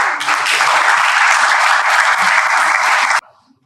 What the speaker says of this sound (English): Please join me in welcoming Professor Dipendra Prasad with an applause.